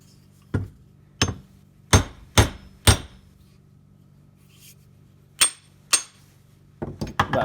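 Sharp metal hammer blows drive a metal wedge into the tapered eye of a wrought iron cobbler's hammer head, about ten distinct strikes in uneven groups with quiet gaps, close and loud, no voices.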